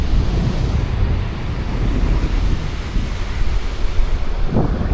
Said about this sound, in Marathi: विशाल असा समुद्र.